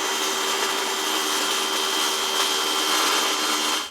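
A steady, close rasping cut through a 12-foot, 8-inch cardboard sonotube being sawn into 2-foot sections, a continuous gritty drone that stops abruptly at the end.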